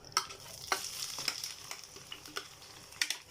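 Chard, coriander and garlic frying in ghee and oil while being stirred, giving a steady close sizzle with sharp crackling bursts and utensil scrapes throughout.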